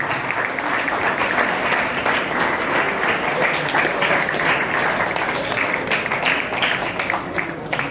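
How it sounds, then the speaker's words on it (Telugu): Loud, sustained applause from an audience honouring a guest on stage at a gathering, a dense steady wash of clapping lasting the whole stretch with no voices over it. "గట్టిగా చప్పట్లు కొట్టి సన్మానిస్తారు."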